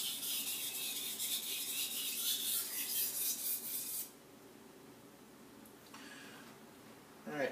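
Kitchen knife being sharpened on a whetstone, working up the belly toward the tip: continuous close scraping strokes for several seconds, then a quieter pause broken by a short final rasp.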